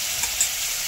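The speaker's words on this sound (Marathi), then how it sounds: "तेल गरम झालेलं आहे. त्यामध्ये हिरवी मिरची, जिरा, अद्रकचा पेस्ट 1 चम्मच घातलेला आहे." Green chilli, cumin and ginger paste sizzling in hot oil, a bright, hissing crackle that stays close and steady through a brief moment, with a couple of small pops.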